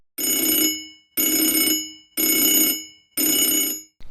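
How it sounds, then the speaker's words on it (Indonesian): An old telephone rings in an office with a loud, metallic bell, four long rings separated by short, even pauses. "Di salah satu kantor ada telepon lama yang bunyi."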